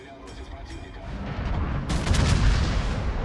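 Warship main battery guns fire in World of Warships, heavy booming salvos rumbling and building in loudness, with a sharp burst near the end; a voice speaks faintly underneath.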